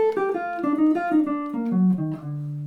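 A bebop variation on a major 7th jump-start phrase, starting on the 7th and running into a triplet, played as a quick solo melodic line that steps downward and settles on a held low note.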